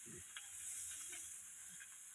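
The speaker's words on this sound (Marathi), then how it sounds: "आणि मग परत जिलापी तळून घेते." Tilapia pieces fry on a hot pan with a faint, steady sizzle and hiss, heard alone and fairly quiet.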